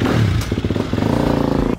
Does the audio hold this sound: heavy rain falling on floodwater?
no